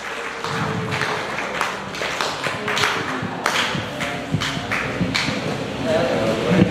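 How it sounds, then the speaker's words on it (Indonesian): An audience claps in applause for two guests at a motivational event, a dense burst of clapping that swells and fades in waves over several seconds, with a host speaking over it. "kita beri aplaus yang meriah pada beliau berdua, Bang Syarif, Kang Syarif dan Kang Dewo."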